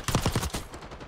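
A rapid burst of submachine-gun fire rattles out in a Black Ops 6 match, a tight cluster of sharp shots over about half a second that then fades into a softer tail.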